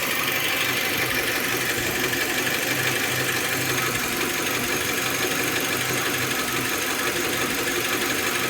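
A car engine with a slight misfire runs steadily nearby, shaking with a rough, slightly uneven rumble and faint knocking irregularities, no voices.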